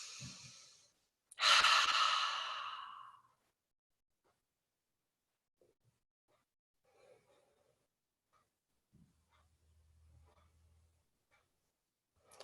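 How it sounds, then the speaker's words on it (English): A deep, audible breath pushed out through the mouth during a gentle seated yoga class, a single loud breathy exhale lasting about two seconds, followed by near silence with faint soft breathing. "Notice if you can exhale out of your mouth."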